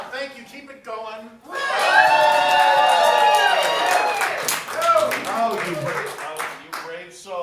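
Comedy club crowd at a standup night cheering and clapping for Carl Wolfson, a sustained roar of applause that swells after a short spoken line and continues under a voice.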